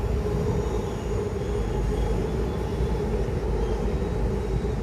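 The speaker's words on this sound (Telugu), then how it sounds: "మళ్ళీ వచ్చింది ట్రైన్, ఇంక ఇదే పని." A passing train near a home garden produces a continuous low rumble with a steady roar, moderately loud and unbroken throughout, with no voices.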